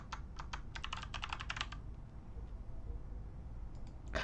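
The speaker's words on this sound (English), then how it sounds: "Then we will type in our name." Quick bursts of keystrokes on a computer keyboard click in a fast, uneven run, then give way to a pause and a single later tap, heard close and fairly quiet.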